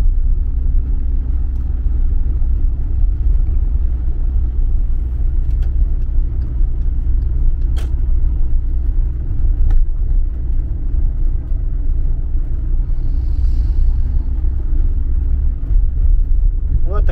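A car driving on the road toward Oknitsa, a steady low interior rumble of engine and tyres running continuously and close, with faint occasional clicks and a brief high whine near the end.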